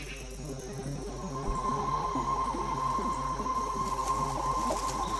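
A cricket in Madagascar chirps steadily with a dense, buzzing insect trill that carries at moderate volume through the whole stretch, over a faint low hum and with no voices.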